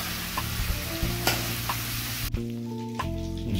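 Fish fries in hot oil in a pan, giving a close, steady sizzle broken by a few sharp clinks and scrapes of a utensil as the pieces are lifted out.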